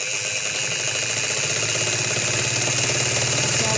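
A sewing machine runs a straight seam on a shirt, a steady rapid mechanical whir with even repeating stitch pulses, close and continuous.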